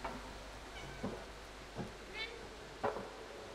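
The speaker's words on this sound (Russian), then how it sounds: "Из всех щелей коты лезут." Cats meow in the video game Stray, several short, faint cries spaced a second or so apart over a low, steady ambient hum.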